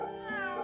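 A single short cat meow in the game Fate Samurai Remnant, a clear, close, tonal mew lasting under a second.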